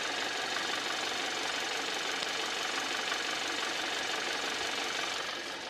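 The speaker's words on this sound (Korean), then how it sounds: "바로 엔진 소리 한번 들려드릴게요" A used car's engine runs steadily with the hood open after roughly 100,000 km, giving a close, even mechanical hum and ticking with no break and no one talking.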